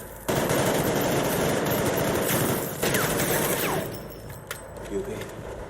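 Rapid gunfire from a 2015 action thriller scene crackles in a dense, loud, continuous fusillade with engine rumble, then fades to sparser shots; voices are heard faintly within the scene.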